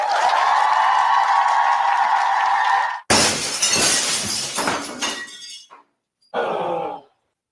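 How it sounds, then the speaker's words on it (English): A car windshield shatters in a loud burst, then broken glass crunches and rattles in a scattered spill before a short silence and a final brief clatter of falling shards, heard with no talking. "When the thrill of playing ball turns into the agony of a broken windshield or car window"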